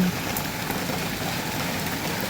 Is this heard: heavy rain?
yes